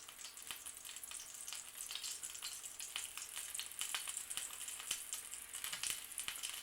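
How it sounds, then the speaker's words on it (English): Mushrooms frying in a hot pan, a dense steady sizzle with crackling pops throughout, fairly faint and without talk. "wait till it comes to sizzling and place them in like that."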